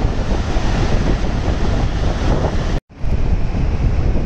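Powerful rushing water released through the open gates of Bargi Dam, Jabalpur, roars in a steady, loud broadband wash, heard from just above the gates, with a brief dropout midway and no voices.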